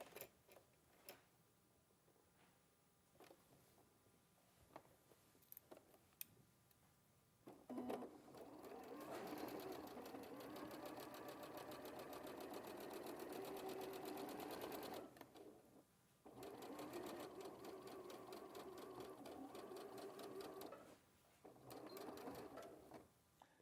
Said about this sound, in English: I'm just going to sew straight from the notch up to the dart point.